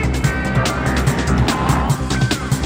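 An Aprilia RSV Factory sport motorcycle engine drones loudly and continuously, its throbbing pulses repeating steadily throughout, with a Spanish-speaking narrator's voice running over it.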